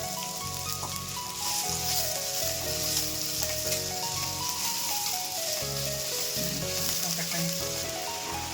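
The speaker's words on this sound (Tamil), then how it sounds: "முதல்ல எண்ணெய் ஊற்றிக்கணும். கருவேப்பிலை அடுத்து ஆனியன் போட்டுக்கணும்." Onions and curry leaves frying in hot oil, a steady close sizzle throughout with occasional stirring, while background music plays underneath.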